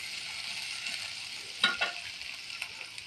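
Onions and green chilies frying in about a cup of hot oil, a steady close sizzle with a few sharper stirring clatters and pops partway through; no one speaks.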